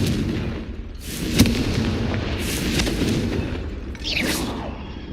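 Confringo fire spell blasts in the Hogwarts Legacy video game, a string of loud booming explosions with crackling bursts and a whooshing sweep near the end, no talk.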